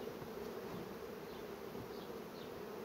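Honey bees from small swarms buzz around the hive, a continuous dense humming drone heard close and steady throughout, with no voices.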